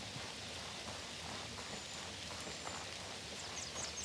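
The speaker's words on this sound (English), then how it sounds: "the rain kind of just sounds like as if it was raining during, like, a summer day" Gentle, steady rain falls in the fantasy adventure game Outward, an even soft hiss of drops on surfaces, quiet and continuous with no voices.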